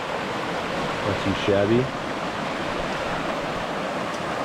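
Stream water rushing over rocks at a hiking trail water crossing in the White Mountains, New Hampshire, a steady close broadband roar with a man's brief spoken remark over it partway through.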